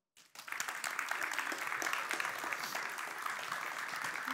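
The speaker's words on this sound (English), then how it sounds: "Now let's have a warm round of applause for Eva." Applause from a conference audience starts abruptly and holds steady, a dense rattle of many hands clapping at moderate distance as a speaker is welcomed on stage.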